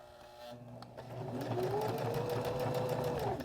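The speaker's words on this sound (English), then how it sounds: "I'm going to stitch over it, and then I'm going to back stitch" A sewing machine stitches fabric for a small pouch, its motor starting up after a brief pause and then running in a fast, steady needle rhythm close to the microphone.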